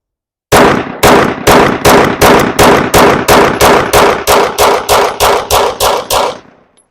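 A Sig P365 pistol fitted with a Spectre comp barrel fires about fifteen loud, sharp shots in an even, rapid cadence, each crack ringing briefly before the next, with no talking.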